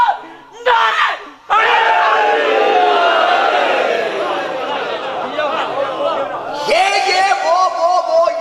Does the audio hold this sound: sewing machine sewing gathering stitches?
no